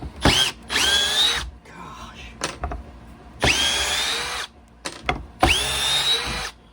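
A DeWalt DCD710 cordless drill whirs up to speed in three long bursts, each with a rising whine and a short clicking start, close and loud, with brief quiet gaps and small handling clicks between runs.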